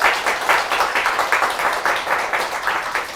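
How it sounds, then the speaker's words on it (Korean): Applause from the congregation at a Buddhist dharma service, a steady patter of many hands clapping with no one speaking. "여러분 큰 박수 부탁드리겠습니다"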